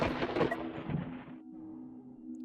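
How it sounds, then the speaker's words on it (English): Lightning strikes in the video game Rogue Voltage with a loud crackling thunder burst that fades after about a second and a half into a low rumbling tail. "Did he just get hit with lightning?"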